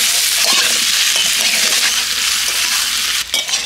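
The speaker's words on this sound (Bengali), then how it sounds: "মাছ ভাজা তেলের মধ্যে আমি কপিটা আর আলুটা দিয়ে দেবো" Kohlrabi and potato pieces hiss loudly after going into hot oil left over from frying fish. The sizzle is continuous and close, with a brief dip and clatter near the end as they are stirred.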